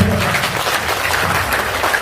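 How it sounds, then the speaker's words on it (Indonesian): Audience applause at a seminar on paying off debt, a short dense burst of many hands clapping steadily with little else audible. "Tepuk tangan buat Bapak Ibu"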